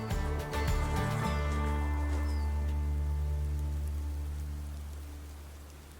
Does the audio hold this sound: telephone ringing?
no